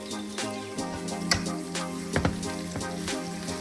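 Sliced onions fried in a pan for bakery-style egg puffs, with a steady close sizzle throughout and a few soft clatters of stirring.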